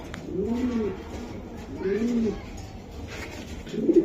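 Racing pigeons cooing close by, three soft throaty coos rolling out at a slow steady interval over a quiet background of faint room noise.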